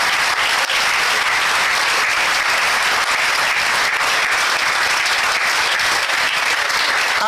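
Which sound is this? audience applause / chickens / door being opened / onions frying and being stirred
audience applause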